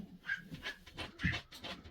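A dog pants in short rhythmic bursts close by, with a few soft whimpery breaths between them, in a quiet room and with no talking.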